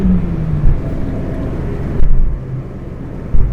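A high-mileage £400 family wagon's engine is revved hard to around 6,500 rpm, a loud close-up roar with rising and falling pitch and a couple of sharp blips.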